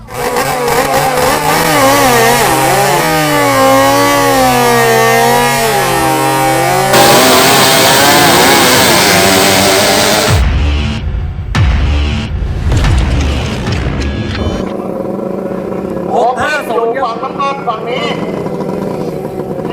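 A 500cc single-cylinder open-class bike and a 650cc jet-ski-style machine rev hard one after another, loud wavering engine pitch rising and falling, with crowd noise and voices over the roar.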